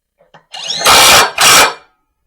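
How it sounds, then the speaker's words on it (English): Impact driver rattling bolts loose on a mid-mount mower, heard as two loud, close bursts of hammering whir after a brief spin-up, with a short pause between them. "if you have an impact, man, this makes quick work of it"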